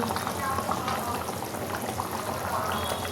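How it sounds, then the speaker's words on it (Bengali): Fish curry bubbling steadily in a pot on the stove, a continuous soft simmering hiss and burble held close and even throughout, with no talk. "দেখো, নিজের তালে উনি ফুটে যাচ্ছেন, গরম গরম একদম।"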